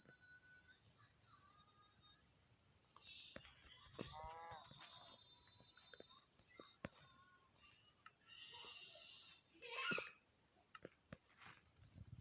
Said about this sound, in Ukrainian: Я перший раз бив корову.